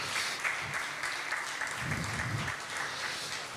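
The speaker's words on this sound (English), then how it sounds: "So can we give them a big round of applause?" Steady applause from the audience at the official opening ceremony of the Changamka Mombasa Shopping Festival at Oshwal Centre, Mombasa, moderately distant and continuous, with a voice briefly audible underneath.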